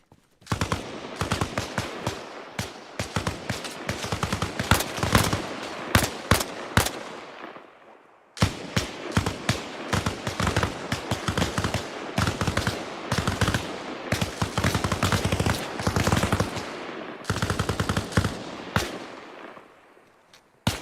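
Dense automatic and burst gunfire from the Arma Reforger battlefield, loud and sustained for about eight seconds, a brief gap, then another long stretch of rapid overlapping shots and volleys.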